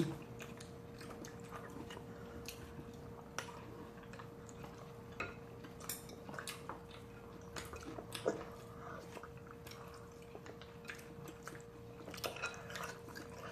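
Someone chews crown daisy doenjang hand-torn noodle soup (sujebi) up close, with soft, quiet, wet chewing and small irregular clicks over a faint steady background hum.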